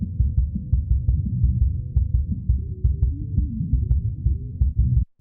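Low sub-bass rumble of a rock mix, mostly the kick drum with the low end of the guitars, thumping steadily in soft repeated pulses for about five seconds before cutting off.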